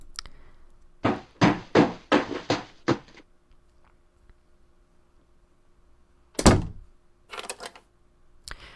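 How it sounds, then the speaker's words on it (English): Repeated banging on a door in a PC visual novel game, a burst of six heavy, evenly spaced thuds followed by a lone hit and a quicker cluster of knocks after a pause, loud and close with no voices. "I hear my father yelling as he continues banging on my door for a while."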